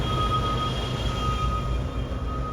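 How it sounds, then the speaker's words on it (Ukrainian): A freight train loaded with truck frames rolls past in the dark, a continuous low rumble with a steady thin whine above it, fairly loud and with no talking. "Там поїзд з рамами для траків."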